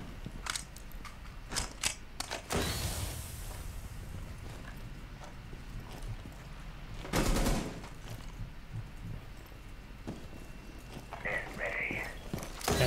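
Gunfire in a competitive video game match cracks as scattered sharp shots and a few heavier bursts, mid-distance, mixed with footsteps beneath near-constant commentary.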